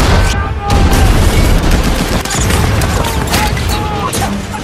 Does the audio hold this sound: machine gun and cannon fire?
yes